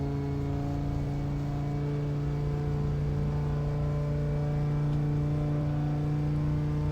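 An Audi R8 GT4 engine in the Assetto Corsa racing game, driven at Silverstone, holds a steady loud drone at full throttle with no talking.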